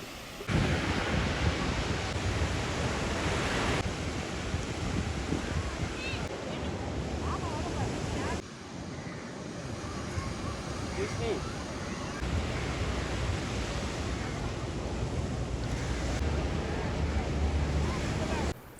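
Ocean waves on Hikkaduwa beach in Sri Lanka roll in as a loud, continuous wash of surf, heavily buffeted by wind noise on the microphone.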